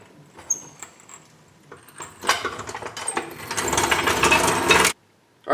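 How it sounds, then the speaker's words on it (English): A floor jack being lowered and pulled out from under a Jeep Cherokee transmission gives a few clicks, then a loud, sustained ratcheting and scraping rush that stops abruptly. "we can go and remove the jack that's supporting the transmission"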